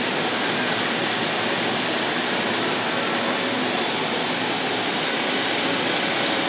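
Maple sap boiling hard in a Vermont sugarhouse evaporator, giving a steady, loud roaring hiss like rushing water, unbroken throughout.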